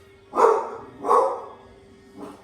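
A dog named Millie gives two fairly loud, close barks, then a third softer one, in a home kitchen where bacon is cooking in the oven.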